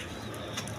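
A pair of Lahori Shirazi pigeons cooing softly, low murmuring coos over a busy background with a brief brighter call partway through.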